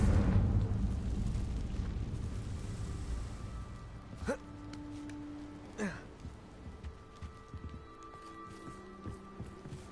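A Confringo fire spell explodes in Hogwarts Legacy, giving a low rumbling blast that fades into a decaying roar, followed by two sharp cracking impacts and a few smaller scattered pops.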